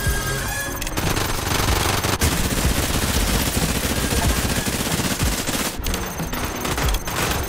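Sustained automatic gunfire in a shooter video game while firing at enemies, a dense, unbroken rattle of rapid shots lasting several seconds, loud and continuous, with no voices over it.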